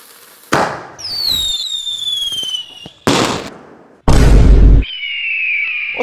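Several small Diwali firecrackers go off one after another, sharp cracks and a heavy bang mixed with rising whistles and fizzing crackle, loud and close.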